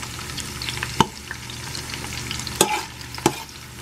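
Garlic frying in a pan with a soft steady sizzle, broken by three sharp clacks of a utensil stirring and scraping, close and without talk.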